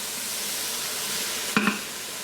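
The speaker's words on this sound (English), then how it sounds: "And get those sauteing up a little bit there." Leeks sauté in an Instant Pot with a steady, soft sizzle throughout, briefly broken by a single stirring clink near the end.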